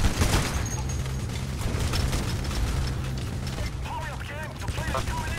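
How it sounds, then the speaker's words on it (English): Police gunfire in the video game Payday, dense rapid shots from several directions under a continuous din of game noise, with faint voices heard near the end. "So they're shooting at you from all angles"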